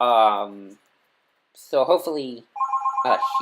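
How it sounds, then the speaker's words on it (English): A telephone rings in the background of a room, a repeating electronic trill bursting in near the end while someone speaks in short phrases around it. "That's my phone in the background."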